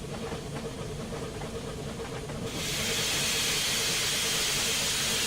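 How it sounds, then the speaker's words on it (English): Steam injector on a steam locomotive in the Train Simulator (Railworks) game hisses loudly and steadily, a low mechanical rumble giving way midway to a bright, broadband rush of steam that holds to the end, with no talking. "So we have a steam injector. There we go. And then you turn on the water."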